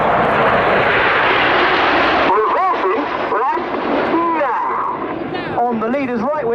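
Red Arrows jets fly formation aerobatics at Yeovilton Air Day with a loud, continuous engine roar. The roar drops away partway through, and someone commentator talks over the fading jet noise through a public address system.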